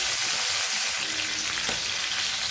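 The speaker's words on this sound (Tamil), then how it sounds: "2 பச்சை மிளகாய் கீறிட்டு சேர்த்துக்கலாம், 4 பல் பூண்டு நச்சு வச்சதை சேர்த்துக்கலாம். இது எல்லாமே நல்லா வதங்கட்டும்." Split green chilies and crushed garlic cloves sauté in hot oil in a pan for an egg masala fry, giving a steady, bright sizzle that holds evenly throughout, with no voices.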